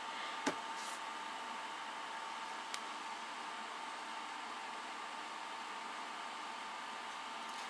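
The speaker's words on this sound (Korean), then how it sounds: "또 선풍기 만지러 가시겠네." A steady electric fan whirs indoors with an even, broadband hum that never changes, and two faint clicks stand out briefly near the start.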